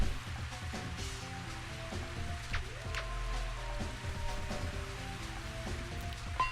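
Steady rain falls across a golf course in the Mario Golf video game, a soft continuous patter heard alone under faint game music, with no voices over it.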